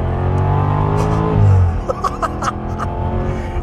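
A car engine drones steadily, surges into a louder rev, then drops back while faint voices and laughter break through.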